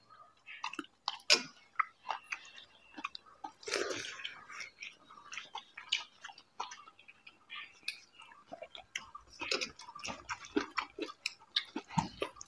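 Soft, close chewing and wet mouth sounds of people eating chicken curry with potatoes at home, scattered irregular clicks and smacks with quiet pauses, fairly faint.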